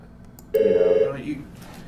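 A telephone rings once with a bright, steady electronic tone that starts abruptly partway through, loud and close, then fades into quiet room noise.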